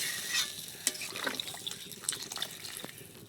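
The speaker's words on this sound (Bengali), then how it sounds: "এবারে কিন্তু জল দিয়ে দিচ্ছি।" Water is poured into a pan of fish curry with potatoes and tomatoes, a short close splashing and bubbling burst with faint sizzle and stirring clatter, no talking.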